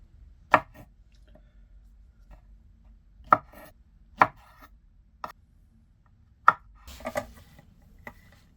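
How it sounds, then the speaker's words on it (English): Oyster mushrooms being roughly chopped with a knife on a board, about eight separate sharp chops spaced irregularly with quiet pauses between, fairly close and alone with no talk. "I'm going to chop these up pretty rough"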